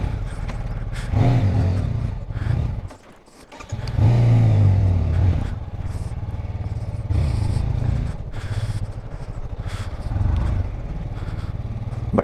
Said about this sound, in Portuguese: vamos encostar aqui a moto